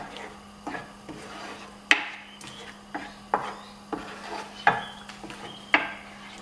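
Thick yogurt being mixed with a spice paste in a pan for dum aloo, heard as a series of short scraping, rubbing spoon strokes at a steady rhythm, close and fairly quiet over a faint low hum.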